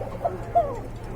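A Koka pigeon, one of a pair of thin-voiced running pigeons, gives two short soft coos about a third of a second apart, close by against a low steady background.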